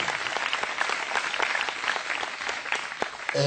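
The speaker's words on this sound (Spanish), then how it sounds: "Un aplauso pues para estos hermanos que vienen a acompañarnos en el día de hoy" Continuous applause from a church audience at an ecumenical gathering of pastors and a priest, welcoming visiting guests, steady and fairly close throughout the short stretch.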